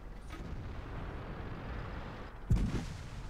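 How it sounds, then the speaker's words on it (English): A VK tank cannon in World of Tanks fires a single shot, a sudden muffled boom against a low rumbling battlefield backdrop, fairly distant and not very loud. "probably the VK shooting at me again"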